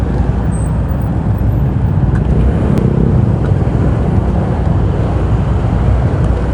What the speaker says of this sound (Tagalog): Matraffic po talaga dito until now kasi medyo makitid po yung kalsada.